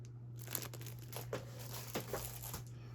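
Stamperia Alice in Wonderland scrapbook paper is handled close up, giving continuous crinkling and rustling with several sharper crackles, under a low steady hum and with no talk.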